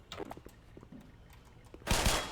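Weapon fire in the video game Black Mesa: a few light shots early on, then a loud, dense burst of gunfire near the end, close and harsh, with no talking.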